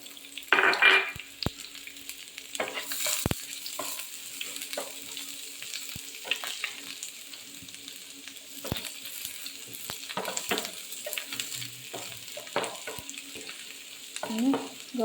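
Dried chili, curry leaves, garlic and shallots frying in oil in a pan, a steady soft sizzle with occasional stirring scrapes and clinks, close and fairly quiet with no talk.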